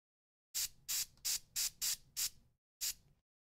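Airbrush spraying acrylic paint onto a troll miniature's flesh, heard as seven short close hissing bursts in a steady rhythm with a pause before the last, with no talking.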